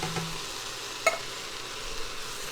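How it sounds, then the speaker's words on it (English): Loud, steady sizzling of canned tomatoes hitting a hot pot in a Ninja Foodi Possible Cooker, a dense crackling hiss with a small clink near the start. "it's going to get loud and sizzle"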